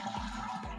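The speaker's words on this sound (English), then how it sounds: "First, let me flush this toilet." A household toilet flushes, water rushing from the tank in a brief, steady, fairly quiet whoosh heard up close, with no voices over it.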